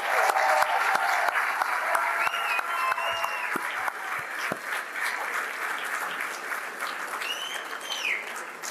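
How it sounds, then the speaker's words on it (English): An audience applauds inductees at the 2024 Belen Hall of Fame ceremony, a dense, sustained round of clapping that runs throughout and eases slightly toward the end. "Let's give them another round of applause, please."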